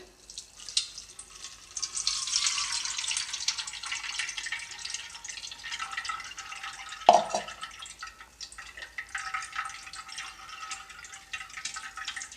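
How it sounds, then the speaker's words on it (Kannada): Ragi milk strains through a cloth laid in a sieve, giving a steady thin trickle and dripping of liquid with one louder splash partway through, close and fairly quiet, no voices. "ಈಗ ನಾನು ಅದನ್ನು ಫಿಲ್ಟ್ರು ಮಾಡ್ಕೊಳ್ತೀನಿ ಇಲ್ಲಿ ಒಂದು ಜಲ್ಡಿ ಇಟ್ಟಿದ್ದೀನಿ ಅದಕ್ಕೆ ನಾನು ಒಂದು ಬಟ್ಟೆ ಹಾಕ್ತೀನಿ"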